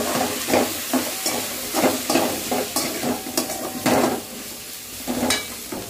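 Tomatoes and onions fry in a pan for a horse gram curry, a steady sizzle punctuated by regular scraping stirs of a spoon against the pan, close and continuous without talk.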